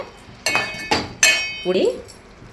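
A metal lid comes off a cooking pot of ridge gourd curry with urad dal vadiyalu, giving a few sharp clinks and knocks close by against low room noise.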